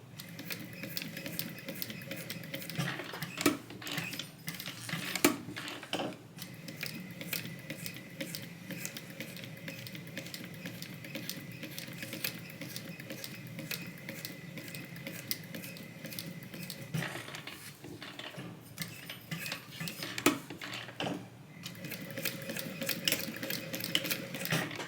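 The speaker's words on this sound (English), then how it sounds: "We're sewing all the way around, 1/8 inch seam allowance" A sewing machine sews slowly all the way around a tote bag seam at a 1/8 inch allowance, a fairly quiet, steady mechanical whir with brief pauses and small clicks as the fabric is turned.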